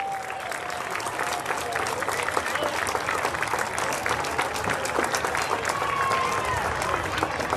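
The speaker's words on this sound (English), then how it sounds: "Yankees, please stand for a round of applause." Applause at a youth baseball closing ceremony as the runner-up Prep Yankees stand, a steady wash of crowd clapping filling the room, with a voice speaking faintly underneath.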